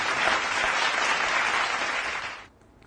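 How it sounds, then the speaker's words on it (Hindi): Loud, dense applause from the audience at a kavi sammelan poetry event, a sustained roar of clapping that cuts off abruptly near the end. "आप जोरदार ताली स्वागत करिए"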